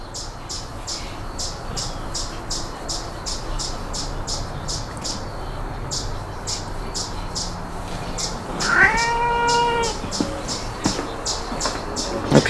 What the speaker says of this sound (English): Our gunsmith cat Grable is here with us today.